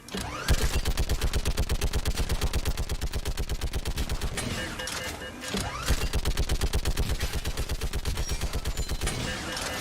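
Sustained automatic gunfire in the video game Mass Effect 3, rapid dense bursts hammering steadily for nearly ten seconds with a brief lull midway, loud and close.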